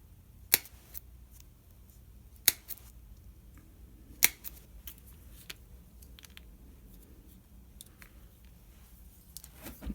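Paper stamps being trimmed with scissors, a few sharp separate snips over a low quiet room background, with faint rustling between the cuts.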